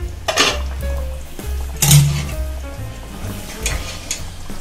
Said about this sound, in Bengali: পাঁচ মিনিট হয়ে গেছে ঢাকাটা খুলে দেব